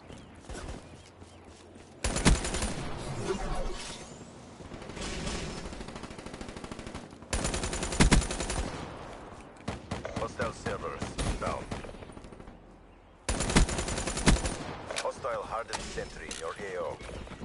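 Sentry guns firing in a Call of Duty-style video game, long bursts of rapid automatic fire in several separate volleys, loud and close, mixed with game effects and some speech.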